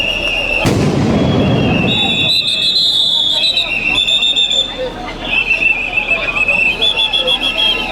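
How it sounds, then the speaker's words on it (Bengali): A sharp, loud blast from a police sound grenade during a street clash with Jatiya Party activists, followed by crowd shouting, whistles and rising babble. "আমরা দেখতে পাচ্ছি দফায় দফায় সাউন্ড গ্রেনেড নিক্ষেপ করছে পুলিশ"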